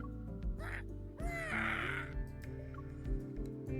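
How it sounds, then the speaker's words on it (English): A crow in a video game lets out a loud, defiant wailing caw that rises and strains, with rough harsh calls over a layer of game background music. "The crow lets out a defiant wail."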